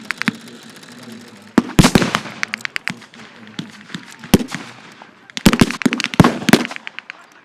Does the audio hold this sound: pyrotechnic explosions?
yes